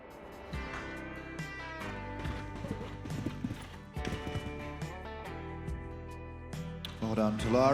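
A young horse's hooves clip-clop around a show-jumping arena at a 4-year-old class, producing repeated dull thuds at a steady gait, with commentary spoken over them.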